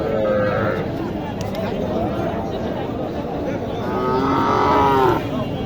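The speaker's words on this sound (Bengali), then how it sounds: "এইখানে একটি বকনা বাছুর আছে দেখেন" Cattle and calves at the Mataji livestock market in Naogaon moo loudly and repeatedly, two long calls standing out over a constant crowd murmur and nearby talking.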